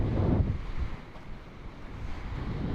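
Wind and surf along an ocean shore, a steady broadband rush with buffeting gusts that swell near the start and end, heard alone with no talk.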